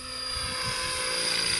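A helicopter flies at an airport, giving a steady rotor thrum and a high turbine whine that sound faint and distant throughout.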